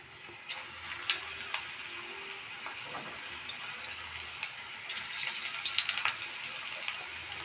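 Piyaji, small onion fritters seasoned with turmeric, frying in hot oil, a steady soft crackle and sizzle with scattered pops throughout, fairly quiet and with no talk.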